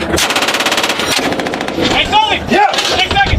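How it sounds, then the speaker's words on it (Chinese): Sustained bursts of machine gun fire from a gunner on an M113 armored vehicle during a US Marine Corps urban combat exercise, loud and close with rapid repeated reports and some echo. "地面的机枪手们毫不吝惜弹药，只管不断开枪就行。"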